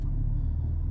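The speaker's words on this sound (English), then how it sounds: "I have no idea how loud my car is." A car engine idles with a deep, steady low rumble, close and continuous for a brief moment, with no voices or other sounds.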